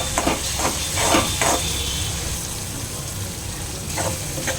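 Coriander-cumin powder and turmeric sauté in a hot pan for dal dhokli, a close steady sizzle and hiss with a few bursts of stirring scrapes at the start and near the end.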